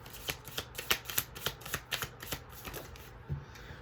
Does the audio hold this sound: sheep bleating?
no